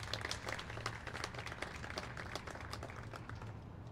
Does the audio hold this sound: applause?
yes